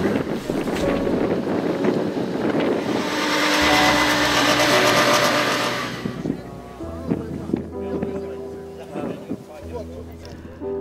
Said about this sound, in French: Un vent de sable s'est levé.